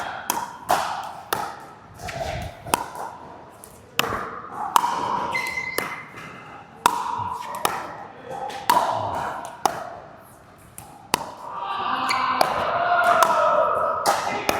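Pickleball paddles strike topspin third shot drops in a steady rally, a string of sharp, close taps and thuds at an irregular pace, with brief voices in between.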